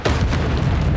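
An Expelliarmus spell blast in Hogwarts Legacy combat, a loud, booming burst that swells at once and holds as a full, rumbling roar for about a second.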